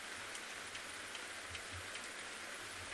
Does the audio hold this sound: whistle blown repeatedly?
no